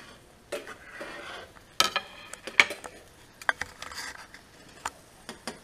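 A utensil stirring bananas Foster in a pan, soft scraping and scattered clinks against the pan over a faint sizzle, close and irregular, with no talking.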